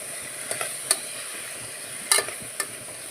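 Cluster beans curry stir-fried in a pan gives a soft continuous sizzle, broken by a few sharp spatula clinks and scrapes against the pan, with no talking.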